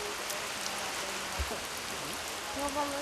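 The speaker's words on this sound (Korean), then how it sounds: "우기라 비가 오는 게 당연하지만" Steady rain falls in rainy-season Burundi, a constant hiss with a few soft nearby drips and faint distant sounds mixed in, heard alone.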